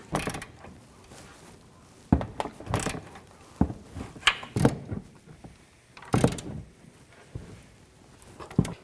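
Ratchet wrench working the upper control arm bolts on a 2007-2014 GMC Sierra 3500HD, heard as several close, loud bursts of clicking and metallic clatter separated by short pauses, with no talking.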